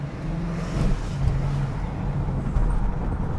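A BMW E70 X5 V8, fresh from engine and transmission rejuvenation work, idles while warming up: a steady, close low rumble with a faint hum riding on it, continuous and even under a soft broadband hiss, with no voices.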